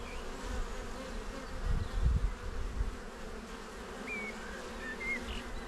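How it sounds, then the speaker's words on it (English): Honey bees buzz throughout an open colony hive during an inspection, a dense, steady drone with a louder swell of nearby wingbeats midway, no voices. "But there are a ton of bees in here."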